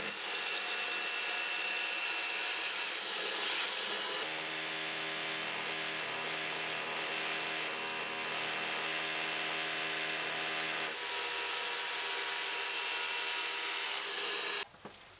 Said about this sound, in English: I'm going to drill the hole using a 10mm masonry bit in this Milwaukee SDS drill with vacuum attachment